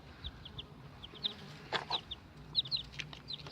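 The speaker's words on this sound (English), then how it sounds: "So you can see that little chirpy chick." Chickens clucking softly over a quiet outdoor background, with a mother hen and her young chicks making scattered high chirps and short clucks at irregular intervals, fairly faint and with no talking.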